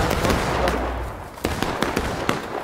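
Booming artillery and musket fire echo across a Civil War battlefield in War of Brothers, a rumbling distant barrage followed by several sharp separate cracks later on.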